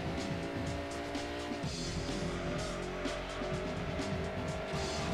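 A racing car engine in the driving game Gran Turismo 2 roars at high revs, whining and buzzing continuously with brief tire squeal, loud and steady.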